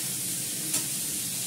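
Potatoes fry in a pan with salt and turmeric, an even close-up sizzling hiss that holds steady throughout with one faint brief spit midway.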